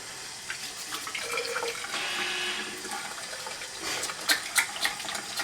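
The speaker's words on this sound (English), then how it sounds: "turn the hot water on" Hot water runs from a tap for hand washing, a soft steady splashing stream with a few sharper spattering bursts near the end, fairly quiet and with no talking.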